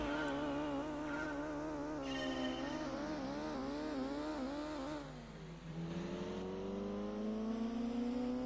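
A race car engine in a Gran Turismo 2 race howls steadily, revving up and down through gear changes. It briefly dips, then climbs again in a long rising pitch, with no voices present.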